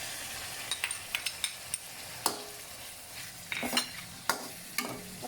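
Sliced shallots are stir-fried with tomatoes in a pan, with a spatula scraping and clinking against the metal in irregular bursts over a low sizzle.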